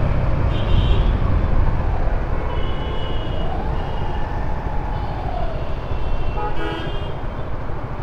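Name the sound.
traffic jam street noise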